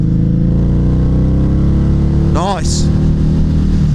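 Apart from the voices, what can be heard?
Harley-Davidson V-Rod motorcycle engine accelerating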